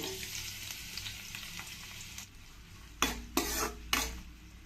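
Thinly sliced onions dropped into hot oil and stirred in a pan, a soft sizzle followed by three sharp bursts of louder frying and scraping, close and alone.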